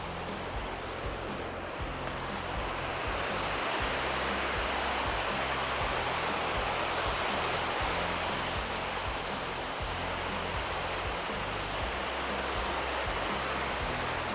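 Dhuandhar waterfall at Bhedaghat thunders in a steady, dense roar of falling water that holds constant and loud from start to finish, with no voices over it.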